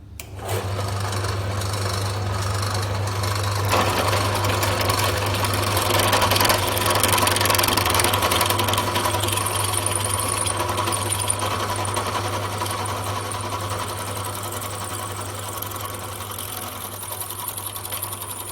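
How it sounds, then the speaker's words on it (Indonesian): A drill bores straight through a workpiece during bench work in a manufacturing process lab, giving a loud, steady motor drone with a low hum and a grinding whine that swells and then eases slightly as the bit cuts. "Lakukan bor hingga tembus ke bawah."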